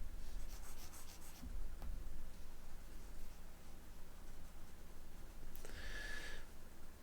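Writing by hand on a surface, heard as soft scratchy pen or pencil strokes in short bursts, close and quiet, with a few faint rubbing sounds and no speech.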